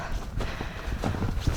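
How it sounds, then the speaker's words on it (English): Footsteps crunch through deep snow up a steep hill, a close, uneven series of soft muffled thuds over about a second and a half, with no talk. "Sorry guys, I'm walking in so much snow."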